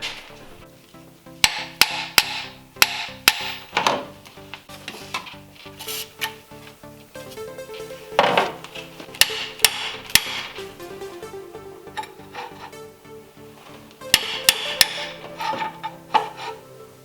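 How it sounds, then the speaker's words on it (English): Sharp metallic hammer taps on a washer at a power steering pump bracket on an Infiniti G35 / Nissan 350Z, coming in irregular bursts of strikes with quieter pauses between, close and loud. "So what we need to do is tap this washer outwards this direction"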